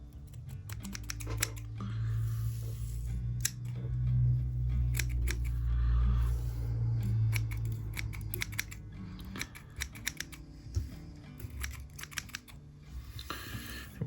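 Scissors trimming fly-tying materials at the head of a perch pattern streamer fly held in a vise, quick crisp snips in clustered bursts over a low background hum.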